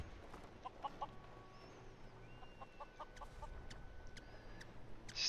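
A chicken clucks in the fantasy video game Skyrim, several short, quiet clucks scattered over faint game ambience with no talk.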